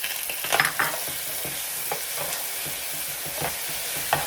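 Onions and tomatoes frying in a pan, a continuous close sizzle broken by repeated scraping and stirring clicks, with no talk.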